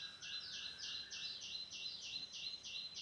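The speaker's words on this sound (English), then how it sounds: "you can hear the sound of that bird." A bird repeats a high, rapid series of chirping notes in a quick, even rhythm, fairly faint against quiet background.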